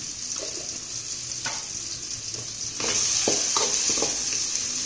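Masala being sautéed in a pan for a black chickpea curry, a steady close sizzle with intermittent scraping taps of a stirring spoon, growing slightly louder partway through.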